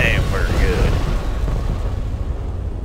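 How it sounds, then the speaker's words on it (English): A big explosion booms in the Ground Control 2 real-time strategy game during a skirmish, a loud sustained rumble that slowly decays amid battle noise. "Now that's an explosion."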